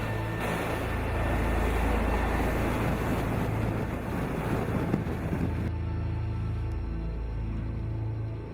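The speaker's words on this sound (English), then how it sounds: "The wind had whipped up the seas" Wind and rough seas buffet a Fleming motor yacht underway off the Isle of Man coast, a steady broadband roar of wind and rushing water that stays loud throughout and eases only slightly near the end.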